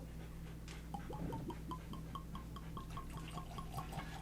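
Oban Distillers Edition whisky glugs from the bottle into a glass in a steady run of quick liquid bursts, close and clear over a low constant hum.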